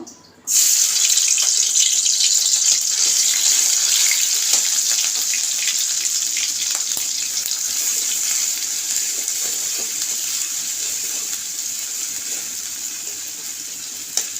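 Garlic paste hits hot oil in a wok and sets off a loud, continuous sizzling hiss. The sizzle starts suddenly and stays strong and steady, easing only slightly over time.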